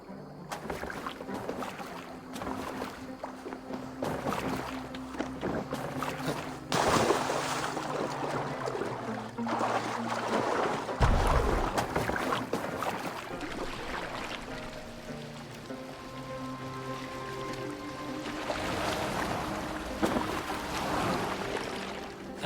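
Oars splash and creak as a boat is rowed across the water in Assassin's Creed Valhalla, a steady rhythmic stroking over soft wind and gentle lapping waves.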